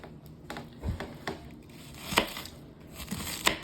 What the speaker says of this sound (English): I'm cutting up my onions.